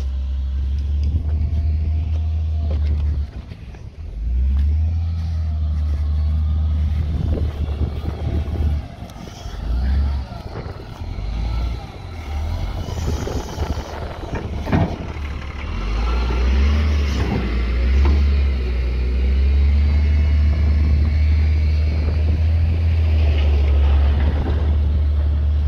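Cattle trucks drive down toward a newly built corral while cattle are being loaded. A loud, steady low engine rumble runs throughout, swelling and easing slightly, with no talk.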